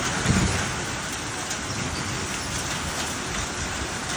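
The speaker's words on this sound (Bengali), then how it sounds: "টপাস টপাস করে শিল পড়ছে, তোমরা শুনতে পাচ্ছ?" Hailstones pelting down steadily outdoors during a windy hailstorm, a dense continuous patter close by with a slightly louder burst at the start, no voices.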